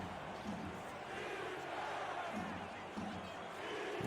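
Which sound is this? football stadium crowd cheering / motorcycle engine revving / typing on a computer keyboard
football stadium crowd cheering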